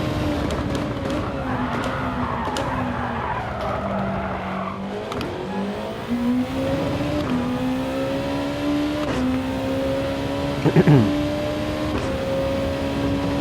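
Race car engine in a racing game, revving and shifting through a lap with rising and falling pitch, tires squealing through corners; loud and continuous with no talk.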